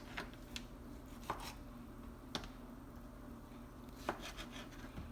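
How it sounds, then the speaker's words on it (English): A few sparse knife chops through bell pepper against a cutting board, irregular and fairly faint, over a quiet room hum. "roughly chop our bell pepper"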